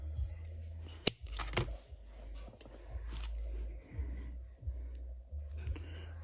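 Scissors cut through rolled newspaper tubes, giving a few sharp, close snips that stand out over low, steady background noise.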